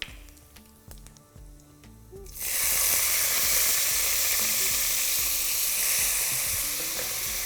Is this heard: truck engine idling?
no